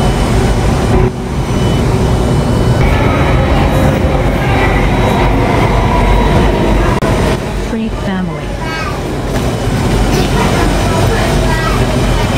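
An Alstom C830 train running in the Roblox game, with a loud, continuous rail rumble and faint clatter throughout. A station announcement voice sounds over part of it.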